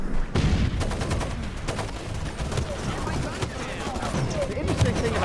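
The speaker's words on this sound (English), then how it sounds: "I throw a grenade there." A first-person shooter battle near an enemy camp opens with one sharp, heavy blast, then a dense, sustained crackle of gunfire. A voice talks under the shooting.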